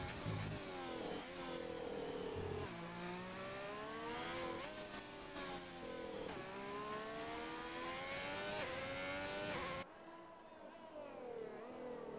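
A race car, apparently a Ferrari, heads out on track in a Brazilian GP racing game, its engine revving hard and rising and falling through repeated gear changes, loud and close throughout, with a sudden shift in tone near the end.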